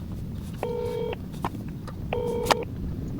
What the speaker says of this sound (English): We're calling Diane again.